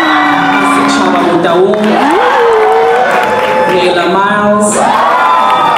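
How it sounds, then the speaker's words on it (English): Students at a South African high school sports awards ceremony cheer, whoop and clap loudly as a crowd, continuous and close, while a voice over a speaker reads names through the noise. "I'd like to ask you guys to please hold your cheers and your applause till the very end"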